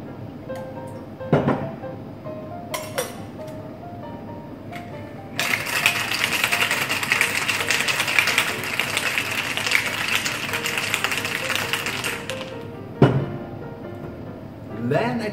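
A cocktail shaker holding a White Russian of vodka and half and half, half milk and half cream, rattles in a dense, steady burst lasting about seven seconds. Brief speech and handling sounds come before and after it.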